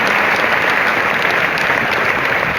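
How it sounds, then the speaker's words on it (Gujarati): Sustained applause from an audience at a Swaminarayan religious discourse gathering in Rajkot, honouring young hostel residents who completed a waterless fast; dense, steady clapping fills the whole stretch at even loudness with no talk. "આપણે જોરદાર તાળીઓથી વધાવીએ છીએ."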